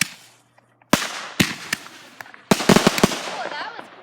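Backyard fireworks launch and burst in a quick series of sharp pops and crackles at close to middle distance, with excited voices of adults and children chattering between the bangs.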